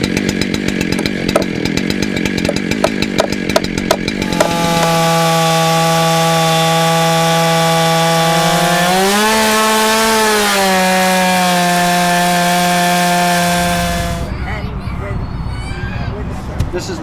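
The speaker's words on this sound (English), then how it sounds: "So a chainsaw really works well for me." A chainsaw roars close by at a forest festival, first rasping and chattering as it bites into wood, then holding a loud, steady whine that rises briefly and drops off.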